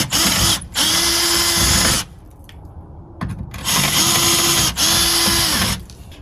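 Power drill boring pilot holes into exterior stucco while installing a Eufy C30 video doorbell: two loud sustained bursts of whirring, each about a second or more, separated by brief quiet pauses.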